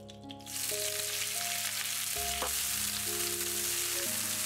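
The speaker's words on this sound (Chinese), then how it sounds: "留点底油，把青菜炒一下" Green vegetables stir-frying in a wok, a steady loud sizzle rising after a quieter start, with a constant tonal hum underneath and one sharp clank midway.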